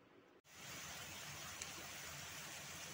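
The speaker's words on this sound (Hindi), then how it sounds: "आज यहाँ बहुत तेज़ बरसात हो रही है, हैवी रेनफॉल की वार्निंग भी है।" Heavy rain falls during a downpour in Bangalore, a steady dense hiss that starts after a brief gap and continues evenly, fairly faint and distant, with no talking.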